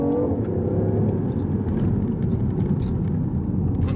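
A 2014 BMW i8 accelerates in sport mode, a steady close engine and road drone with a brief rising whine at the start, heard from inside the car.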